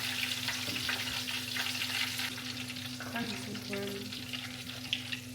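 Fish frying in hot grease for a Friday fish fry, a steady dense sizzle and crackle with a low hum underneath, running continuously at close range with no voices.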